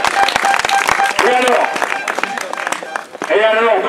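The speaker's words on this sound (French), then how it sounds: "je vous demande de l'applaudir très très fort" A crowd applauds a rider at a national cyclo-cross championship in Lau-Balagnas, with clapping heard under an amplified announcer who keeps talking throughout.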